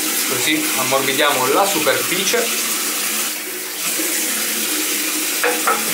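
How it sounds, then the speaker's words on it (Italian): Hot water running from a tap into a sink for softening Grégory Extró shaving soap before a Merkur 37c razor shave, a steady close rush of flowing water under someone talking in Italian, easing briefly midway. "Allora, mettiamo un po' di acqua calda"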